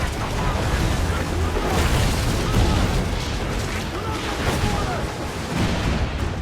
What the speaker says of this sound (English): The chain shot is a stun weapon. Hitting ships slows them down.